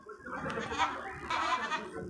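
Young goat kids bleating at a busy rural livestock market in Bangladesh, a few wavering cries fairly close amid faint crowd murmur.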